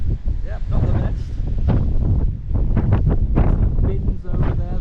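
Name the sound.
strong wind during Storm Babet flooding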